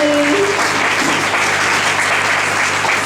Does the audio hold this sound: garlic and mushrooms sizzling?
no